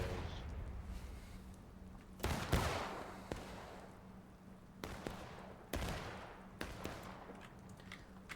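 Musket volleys in the War of Rights video game during a historical rules event: several loud, sharp shots with long decaying echoes, some overlapping, over a low rumble of distant firing.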